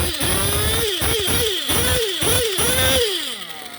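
A GS Racing 7-port nitro engine fitted with a Reds Racing HCX carburetor, running loud and close. It gives a shrill, buzzy whine and is blipped in repeated quick rises and falls of pitch, about six bursts in under four seconds.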